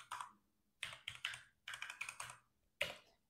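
Fingers type a command on a computer keyboard in short bursts of crisp, close key clicks separated by brief pauses, in a quiet room.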